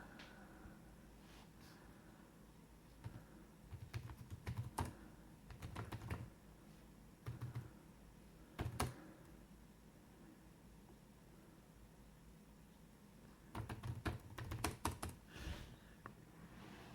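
Typing on a Sony BKB50 Bluetooth keyboard: quiet, close clusters of soft key clicks in short bursts separated by pauses of near silence.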